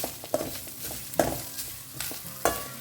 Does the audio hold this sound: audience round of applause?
no